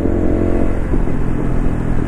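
Honda Cross Cub 110 JA45 single-cylinder engine with a power filter enclosed in the stock airbox, cruising in fourth gear below 6000 rpm: a steady, dense engine drone with road and wind rumble, loud and close.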